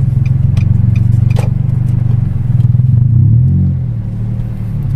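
A Datsun Go Panca engine rumbles loudly from close by, its low drone rising in pitch as it revs, with light rattles over the top.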